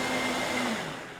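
A blender purees pumpkin soup, a steady dense motor whir running loud and continuous throughout, easing slightly toward the end.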